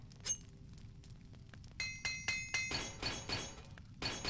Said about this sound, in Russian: эти чудесные звуки починки снаряги